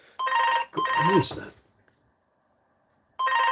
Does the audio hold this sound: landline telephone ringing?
yes